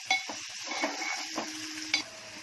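A medium onion softening in hot oil in a cooking pot for tempering, giving a close, steady sizzle with brief stirring scrapes and a sharper clink near the start and end; no one speaks.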